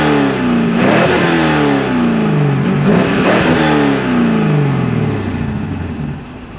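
A 1994 Mazda RX-7 rotary engine revs up repeatedly from inside the car, loud rising and falling sweeps close by, with no talking.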